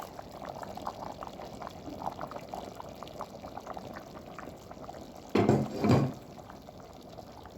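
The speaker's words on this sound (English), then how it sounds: "you pour in your marinade." Marinade poured into a boiling pot of corn chaff porridge, a brief splashing pour of about half a second rising over the steady low bubbling and simmer of the pot.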